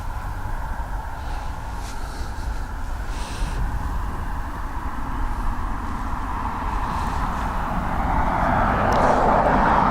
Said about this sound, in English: RK 814 heading off to Edinburgh. It is a 737-800.